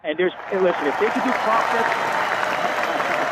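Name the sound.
audience applause for Sal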